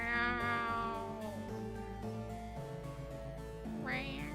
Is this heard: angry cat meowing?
yes